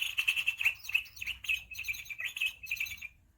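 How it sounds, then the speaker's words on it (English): Small birds chirp and trill in quick, bright phrases, close and clear, with brief pauses between bursts of song. "she heard the song of the birds"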